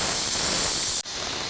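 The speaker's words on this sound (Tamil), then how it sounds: "இந்த ப்ரெஷர் ரிலீஸ் பண்ணிக்கலாம்." A pressure cooker releases steam in a loud, close, continuous hiss that cuts off abruptly near the end, leaving a fainter steady hiss behind, with no talking.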